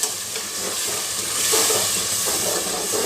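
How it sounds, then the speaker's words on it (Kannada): Tomato paste frying in oil for a mint pulao, a continuous close hissing sizzle that swells slightly midway, steady and unbroken with no talk. "ಈಗ ಟೊಮಟೊ ಪೇಸ್ಟ್ ಹಾಕ್ತೀನಿ ಇದು ಕೂಡ ಎಣ್ಣೆಯಲ್ಲಿ ಚೆನ್ನಾಗಿ ಫ್ರೈ ಆಗಬೇಕು"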